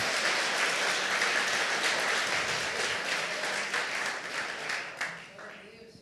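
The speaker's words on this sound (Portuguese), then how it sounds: "dê um aplauso a Jesus por isso." A church congregation applauds during a Portuguese-language sermon, a loud, dense wash of clapping that holds steady for several seconds before thinning out and fading near the end.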